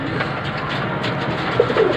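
Racing pigeons coo softly at their water and feed in a loft, low murmuring calls over a steady background hum, no talking.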